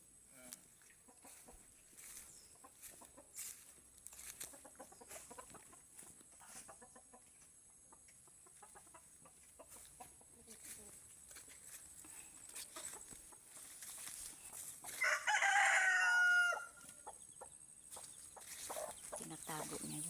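Chickens cluck and chirp around a yard where a hen is hiding her chicks, with a louder squawk midway and a person talking quietly in between.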